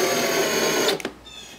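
A power drill drives screws into cedar boards for a window box planter, a steady high whirring buzz for most of a second that cuts off abruptly, followed by a couple of brief clicks and quiet, close and loud.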